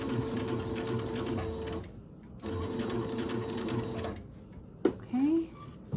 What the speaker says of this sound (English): bring the fabric around. Sometimes you need to push it through like that. And continue to sew.